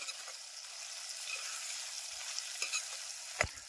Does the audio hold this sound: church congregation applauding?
no